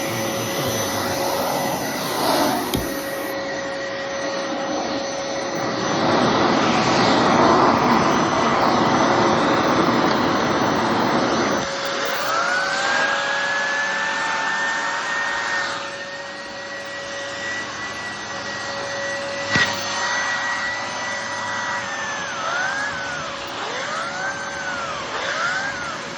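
A Bissell Heavy Duty 93Z6 bagless upright vacuum runs with its turbo brush engaged, a loud steady motor roar with a rising whine partway through and brief bumps, no talking.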